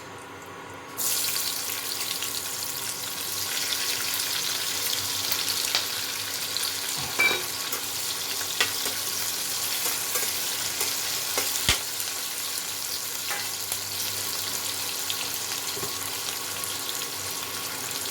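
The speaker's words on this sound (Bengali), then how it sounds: "এবার এই তেলের মধ্যে আমি চৌকো করে কাটা পেঁয়াজগুলো ভেজে রাখবো" Diced onions fry in hot oil left over from frying eggs, giving a steady, even sizzle throughout with a few faint clinks and taps of utensils.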